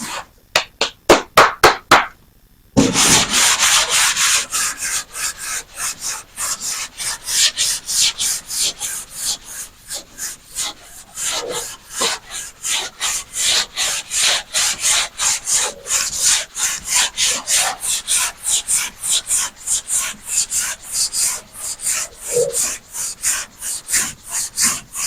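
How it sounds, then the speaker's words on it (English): Block sanding by hand over a guide coat on automotive bodywork, a steady run of rhythmic rasping strokes repeating fast and close, loud and alone after a few brief opening scrapes. "Our block sanding, you want to go all different directions"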